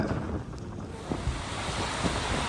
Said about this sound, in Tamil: எவ்வளோ ஆக்ரோஷமான காற்று இந்த காற்றுக்கு தகுந்த மாதிரி அந்த மரம் டான்ஸ் ஆடுதா இல்லை பயமுறுத்துதான்னு தெரியல